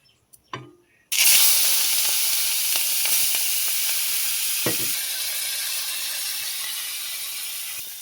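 Prawns frying in hot oil in a wok for a prawn and cucumber dish: after a couple of soft knocks, a loud, steady sizzle bursts in and carries on close by, with faint clatters, easing only slightly toward the end.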